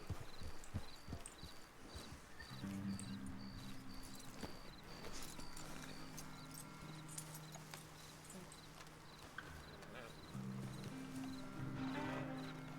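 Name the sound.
horses walking, hooves clip-clopping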